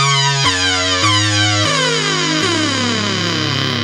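ARP Odyssey 2810 analog synthesizer playing bright buzzy stepped notes that glide between pitches, distorted and effect-laden, loud and continuous with no voices.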